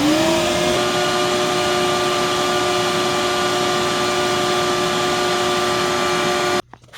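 A Proteam Tailvac DT 100 backpack-style vacuum runs steadily at close range, a loud constant motor whine that holds for several seconds before cutting off abruptly at the end.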